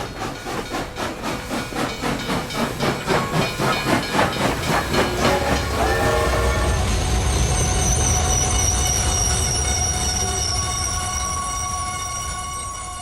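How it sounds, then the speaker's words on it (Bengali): A train pulls into a station: a rhythmic chugging beat slows and gives way to a loud, continuous steam hiss with high squealing wheel tones that fade gradually as it comes to rest. "এসো, ট্রেন ঢুকছে।"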